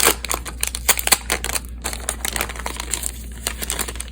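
Sheets of stickers crinkle and rustle as they are handled close up, a run of quick, sharp, papery crackles and flicks with no talking.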